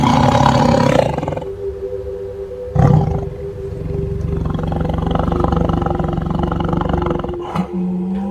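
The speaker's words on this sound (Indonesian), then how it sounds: "terdengar suara mirip harimau menggeram dari mulut Bang Rasid" A tiger-like growl sound effect in a narrated horror story, a loud, deep, sustained roar that swells and rumbles for several seconds with a few sharper bursts, heard alone without narration.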